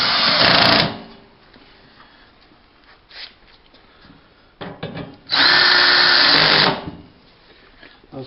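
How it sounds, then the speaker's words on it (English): A power drill drives screws into the outer arm of a MailSwing mailbox mount in two loud, close whirring bursts, a short one at the start and a longer one later, with quieter handling noise between. "We'll put the last two screws in."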